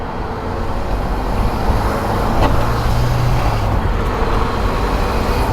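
A turbocharged SR20-swapped Porsche 944 restomod drones steadily from inside the car while driving over a bumpy road, a dense, loud engine and road roar with no gaps.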